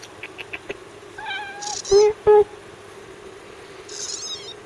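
A mother cat meows at close range, giving a few soft chirps and then two louder, drawn-out meows with a fainter call after, over a quiet background.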